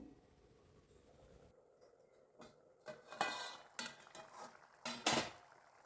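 A plate set down over a pan of restaurant-style chana masala as a lid, giving a few light ceramic-on-metal clinks and taps that grow sharper toward the end, close by with no talking.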